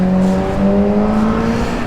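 A Ferrari sports car sounds a loud, steady engine drone as it drives past on a Palm Beach, Florida street, its pitch sliding gently upward over a couple of seconds.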